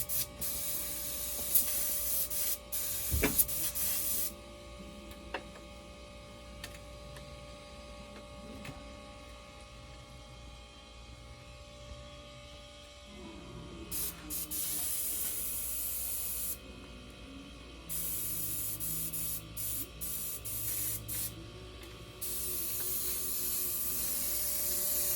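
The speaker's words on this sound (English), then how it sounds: "So all you do is blow air to clean out the line" An airbrush blowing air through its line to clear it gives a soft, steady hiss in on-and-off stretches, with brief quiet gaps and faint studio noise underneath.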